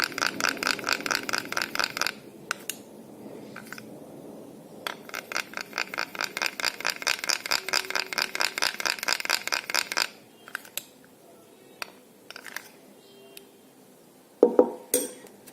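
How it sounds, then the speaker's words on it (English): A spoon stirs melted dark chocolate in a bowl, making quick rhythmic scraping clinks for a few seconds, a brief pause, then a longer run of steady strokes, followed by scattered soft taps and clinks; close and fairly quiet. "Now just stir it well till it becomes nice and smooth."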